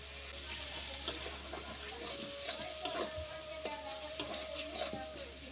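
Tomato and turmeric masala fries in hot oil for a dhaba-style chicken tadka, with a steady low sizzle under repeated scraping stir strokes of the spoon against the pan, close and moderately quiet.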